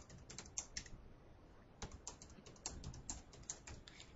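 Username and password typed on a computer keyboard, bursts of quick, close key clicks with brief pauses between them, alone and without talk.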